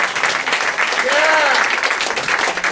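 A crowd at a hip-hop album release show in New York City applauds and cheers loudly, with dense clapping and a brief whoop rising above it.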